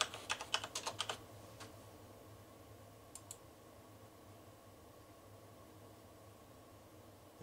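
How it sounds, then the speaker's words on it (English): A zip code is tapped out on a computer keyboard during setup of an APC Back-UPS Pro battery backup, with a quick burst of keystrokes near the start, two isolated clicks a little later, then quiet room hum. "Then you want to go ahead and punch in your zip code."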